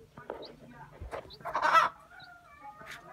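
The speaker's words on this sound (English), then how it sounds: "So now we have six chicks," Hen clucking near newly hatched chicks, a few short clucks and faint peeps in bursts, with one louder squawk in the middle, fairly close.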